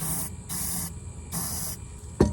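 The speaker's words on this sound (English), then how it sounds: "Just taking a little bit of spray paint, spray it inside that bottle until you've got it nice and bright." Spray paint sprayed inside a plastic bottle: three short hissing bursts in quick succession, close and bright, ending with a brief knock of handling.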